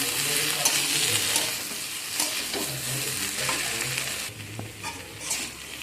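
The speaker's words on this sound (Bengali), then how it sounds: "দিয়ে একটু নাড়াচাড়া করে নেব।" Chopped tomato fries in a pan, with a steady crackling sizzle and intermittent close scrapes of a spoon stirring it.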